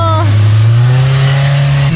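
A Pro R UTV engine roaring loud and close on a fast ride, a steady droning growl that climbs slightly in pitch as it revs, with wind buffeting throughout.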